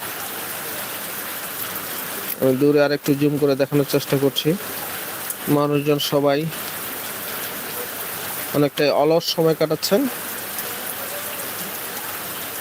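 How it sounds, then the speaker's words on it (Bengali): Steady heavy rain hisses through the whole stretch in northern Bangladesh while someone speaks over it in several bursts, the downpour continuing alone between them. "দেখা যাক এই বৃষ্টি আর কতক্ষণ থাকে"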